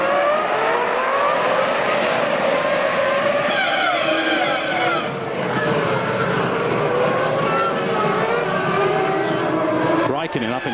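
Formula 1 cars roar away at the start of the 2002 Canadian Grand Prix, a loud continuous blare of high-revving engines from the pack, steady throughout with a commentator talking over it.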